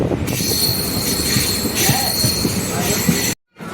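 An electric multiple unit train brakes into Trichy station, wheels squealing loudly and continuously with a shrill, sustained ringing over the rumble of the carriage, heard from on board until a brief cut near the end.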